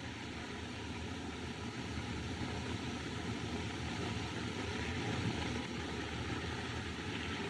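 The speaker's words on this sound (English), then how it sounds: "Ah, plane. Probably making a forced landing." Steady propeller-airplane drone from a plane flying overhead in a 1929 film, a constant engine hum with broadband noise holding at even loudness throughout, no voices.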